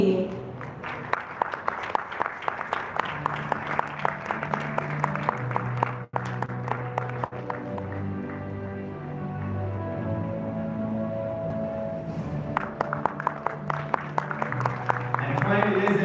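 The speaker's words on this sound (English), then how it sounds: "Ladies and gentlemen, please put your hands together for our next jury member, Dilshan Kudaheti." An audience at a South Asian travel awards gala applauds a jury member as he is called up. Sustained, moderate clapping mixes with stage music playing underneath, and the applause swells again near the end.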